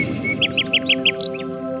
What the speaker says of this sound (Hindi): पेड़ों की टहनियों पर चहकते पंछी